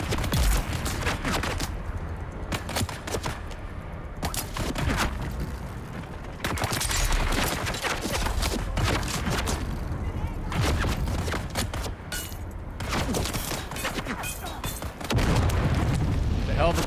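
Grenade blasts and bursts of gunfire in the video game Dune: Awakening land as repeated loud booms and crackling volleys in separate bursts, with a player's voice speaking between them.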